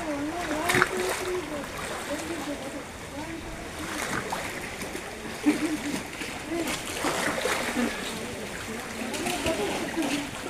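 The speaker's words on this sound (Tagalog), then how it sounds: "Ang ganda nung alon, oh. Lakas." Sea waves splashing at a coastal spot in Dumangas, Iloilo, a continuous wash of water with periodic louder surges, heard beneath people talking nearby.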